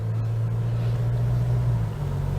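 A steady car engine drone with a low, constant hum, leaving the pit lane at Chang International Circuit, continuous and fairly close, shifting slightly in pitch near the end, with no voices.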